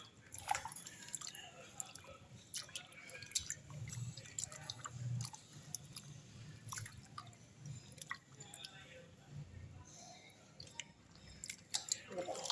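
Sliced potatoes for crispy chips are rinsed in water and strained in a kitchen, with soft wet squishing, sloshing and drips throughout, close and fairly quiet, under a voice talking.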